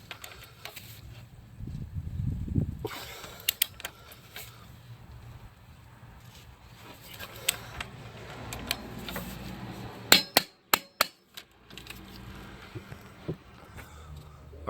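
Metallic clinks and taps from working a torque wrench on a Dodge Dart front control arm bolt, ending in a rapid cluster of sharp clicks, faint and close in a quiet garage.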